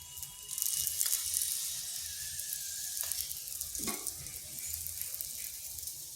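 A banana paratha fries in light oil on a hot tawa with a steady, bright sizzle, close and continuous, broken by a few soft scrapes and pats against the pan.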